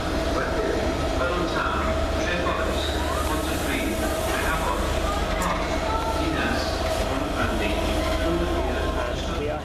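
A train pulls into Cardiff Central station, giving a continuous loud rumble with some wheel noise and station ambience.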